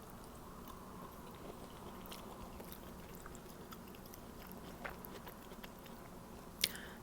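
Quiet, close chewing of a chicken broccoli stir-fry with onion, sauce and rice, soft steady mastication with small crunches and one sharp click near the end, no talking.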